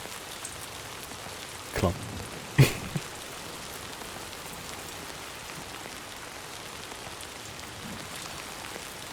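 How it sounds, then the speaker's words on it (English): Steady rain falls in the Death Stranding 2 video game, an even hiss of drops with a couple of brief louder taps early on, while a voice says a single word. "It's raining, so now we can't sleep."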